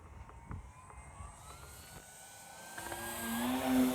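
A Dynam PT-17 RC model biplane on its included 4S 2600 battery pack, with its electric motor at 100% throttle, a distant whine that rises and grows louder as the plane passes, no voices.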